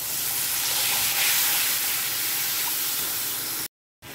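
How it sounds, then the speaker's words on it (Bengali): Water poured onto spices frying with salt and turmeric in a pan, a loud, steady hissing sizzle that holds for several seconds before cutting off abruptly. "এর সাথে সাথেই আমি দিয়ে দেবো সামান্য একটুখানি জল।"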